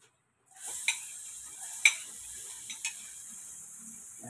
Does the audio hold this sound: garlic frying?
yes